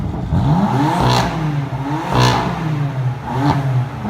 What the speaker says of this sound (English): And the exhaust note is beautiful.